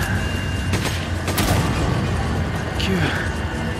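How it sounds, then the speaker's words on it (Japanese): In Resident Evil 5, rumbling booms and blasts of an explosion roll continuously over dense game noise, with people talking over it. "ダメだ、これ爆発する"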